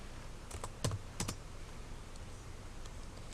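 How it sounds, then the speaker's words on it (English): Keys clicked on a computer keyboard, a short quick burst of a few soft nearby taps followed by faint quiet. "And we're going to type in Rapunzel."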